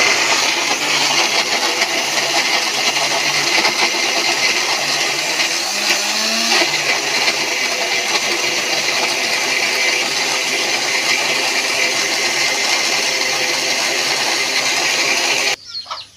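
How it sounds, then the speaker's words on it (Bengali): A mixer grinder grinds a spice paste made with cumin, a steady loud whirring drone that runs almost without a break for about fifteen seconds and then cuts off abruptly. "এখন গাইস আমি মশলাটা পেষে নেব মিক্সচার মেশিনে"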